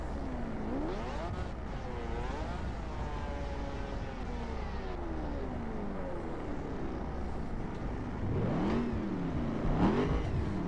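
A car engine in the video game The Crew: Calling All Units revs up and down repeatedly, its pitch sweeping and climbing, with a louder surge of acceleration near the end.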